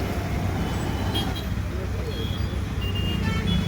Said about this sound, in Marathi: तुम्ही बघू शकता इथं खतरनाक ट्रॅफिक आहे